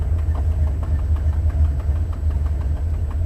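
A Buick 455 Stage-1 V8 in a Regal-T idles with a busted exhaust header gasket, a steady low rumble carrying a rapid, rhythmic ticking puff, heard from outside the car at close range.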